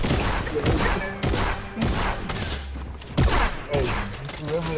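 Rapid combat shotgun blasts in Fortnite gameplay fire one after another in dense bursts, loud and close, with a speaking voice mixed in underneath.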